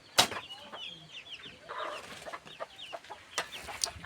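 A chicken clucks and squawks in agitated bursts as it is being caught, with scuffling and a few sharp knocks around it, fairly close and moderately quiet.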